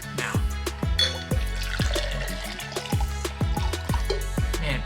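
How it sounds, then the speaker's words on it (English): Water pours and drips unevenly while a drink is being mixed, with a string of distinct splashes and drops landing in a regular, close, fairly loud rhythm and no talking. "pouring water is just not going super well"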